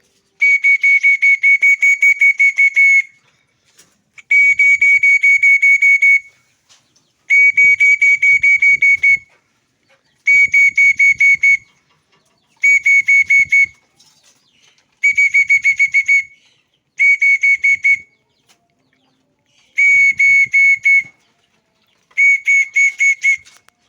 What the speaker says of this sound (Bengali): এই হলো বাঁশি।